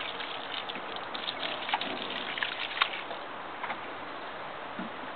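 Water pours and splashes onto wet clay soil, a steady close hiss of trickling and spattering with a few brighter drips, continuous and alone.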